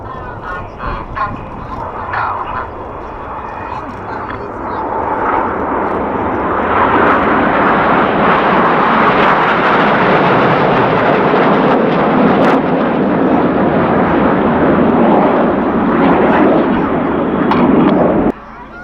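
Tornado jet at the RAF Cosford airshow, a loud, broadband roar that builds from a rumble into a sustained, overwhelming blast before cutting off near the end, with faint talk beneath at the start.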